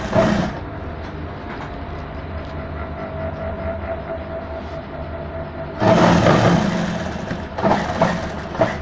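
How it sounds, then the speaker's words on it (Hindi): An electric sewing machine stitches a padded bridal blouse with a steady motorized whir, continuous and fairly loud, surging louder near the end as stitching speeds up, with no talking. "यहाँ से इसमें सिलाई लगाएंगे"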